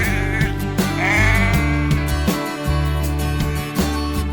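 Sheep in New Zealand bleat repeatedly, loud and close, several overlapping calls rising and falling over a steady background.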